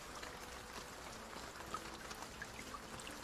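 Steady rain falls in the video game Carth, a soft, even hiss of drops and trickling water that stays faint and constant throughout.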